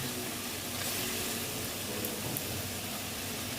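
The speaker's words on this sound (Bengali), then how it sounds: "এখন আমি আলুগুলো দিয়ে দিচ্ছি আলুর সঙ্গে ভালো মতন কষিয়ে নিচ্ছি" Potatoes frying in a pan for a fish egg dish give off a steady, even sizzle that holds unbroken for a few seconds with no talking.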